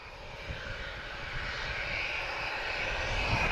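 Ryanair Boeing 737-800 operated by Buzz departing Lisbon for Warsaw: a broad, continuous jet engine roar with a hissing upper edge, building slowly and steadily, moderately distant, with no speech.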